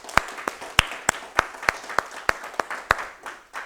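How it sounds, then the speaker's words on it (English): Sparse clapping from a lecture class, roughly a dozen distinct, sharp claps in a loose, fairly regular rhythm, close and moderately loud, tapering toward the end. "I'm going to give a round of applause to the class"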